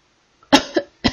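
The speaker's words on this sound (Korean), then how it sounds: "콜록콜록. 뭐야 이거." Three harsh coughs, one loud burst then two more, from a person choking on coal briquette smoke in a closed room, heard alone with no talk.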